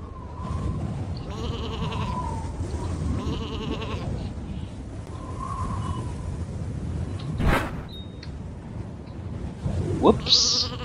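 Repeated sheep bleats from the video game Isle of Ewe, several calls rising over a steady game backdrop, ending with a sharper whoosh-like effect and a final louder bleat.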